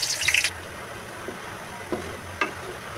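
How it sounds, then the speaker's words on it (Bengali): Onions frying in oil in a wok for biryani, a soft steady sizzle under a few faint clinks and stirring scrapes, with no talking. "কড়াইতে তেল দিয়ে দিছি পেঁয়াজগুলি ভাজার জন্য"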